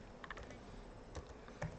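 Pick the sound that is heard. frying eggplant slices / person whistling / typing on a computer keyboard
typing on a computer keyboard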